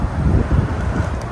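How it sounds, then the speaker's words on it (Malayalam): Strong wind buffets the microphone outdoors while a DJI Mini 4 Pro drone flies overhead, a loud, continuous low rumble with no talking. "വല്ലാണ്ട് കാറ്റടിക്കുന്നുണ്ട്"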